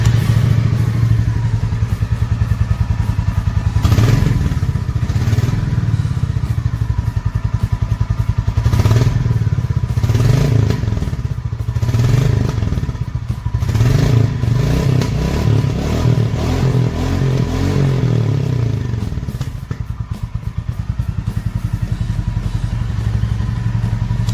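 A Royal Enfield motorcycle idles with its exhaust running, a loud steady low thump that continues without pause, with faint mechanical clatter and a few slight revs along the way.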